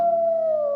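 A single steady, sustained wolf howl, loud and close, holding one pitch and sliding slightly lower toward the end.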